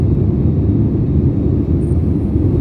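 Inside a SriLankan Airlines airplane in flight toward Kochi, a steady, loud low cabin roar fills the whole stretch without change, with no voices.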